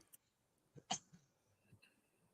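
A single short, sharp cough stands out near the middle, with a few softer throat sounds and breaths before and after in an otherwise quiet room.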